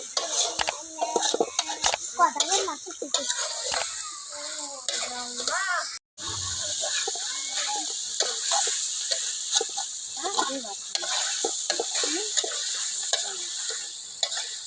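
Spicy duck curry stir-frying in a pan produces a constant crackling sizzle with scattered stirring clicks, running beneath someone talking throughout, with a brief silent break partway through.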